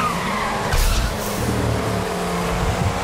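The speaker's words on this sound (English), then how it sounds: "Our rear right is punctured." A Formula 1 car in the F1 2015 racing game, driven at the Spanish circuit with its rear right tyre punctured, gives a loud, continuous engine drone with a brief rising surge partway through.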